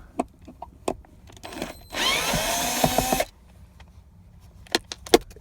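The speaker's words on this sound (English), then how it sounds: "the first thing we have to do is remove these screws here in order to get her out" A power drill whirs in one loud burst of just over a second, backing screws out of a Dodge Ram 1500 armrest. Scattered clicks and taps of handling the part come before and after it.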